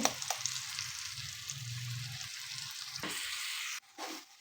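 Two eggs with finely chopped green chilies frying in a pan, giving a steady close sizzle with brief stirring clatters and a cut-off near the end.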